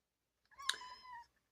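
A cat gives a single soft, drawn-out meow, close and fairly quiet, alone in otherwise near silence.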